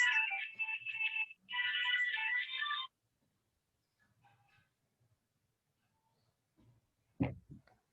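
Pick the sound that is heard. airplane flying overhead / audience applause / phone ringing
phone ringing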